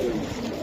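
A brief low coo from large silver pigeons sits close and fairly loud, a single short rolling phrase without voices.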